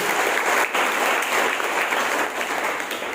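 Loud, sustained applause fills a church congregation, dense clapping from many hands running continuously with no talk over it.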